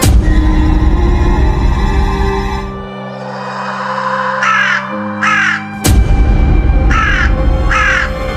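Four harsh caws from a crow in an animated series, arriving in two pairs over loud droning background music and ambient tones, with no voices.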